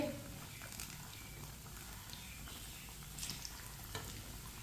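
Bread pakora frying in hot oil in a home kitchen pan after being flipped, a steady dense sizzle and bubbling close up, with a few faint clinks over the sustained crackle.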